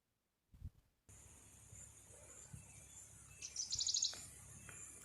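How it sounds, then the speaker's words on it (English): Birds chirp at a farm of mango and Nilgiri trees near Bangalore, a quick burst of high calls midway over a steady hiss of insects, after a brief thump at the start. "You can hear the bird sound."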